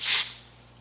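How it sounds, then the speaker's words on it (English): A single short burst of clear face spray misted onto a hand, a bright hiss lasting about a quarter second, close and fairly loud, then quiet room tone. "So I wanna spray it on my hand first so I can see what it looks like."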